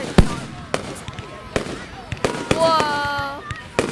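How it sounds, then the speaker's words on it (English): Fireworks burst at an outdoor display in Clevedon, with sharp separate bangs and crackles spread across the clip, some louder and closer, while people talk over them. "Fireworks."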